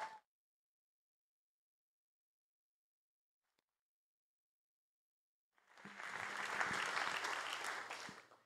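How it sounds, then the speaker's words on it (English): Audience applause for teams at the IndieBio San Francisco biotech demo day, a steady crowd ovation rising after several seconds of near silence and holding loud and full for about three seconds before fading. "Let's give them a round of applause."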